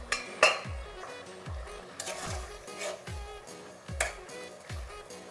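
Metal clinks and clatters of a lid being set on a cooking pot while prawn and ash gourd curry simmers in a village-style Bengali kitchen, a few sharp knocks spaced across the clip with faint background noise.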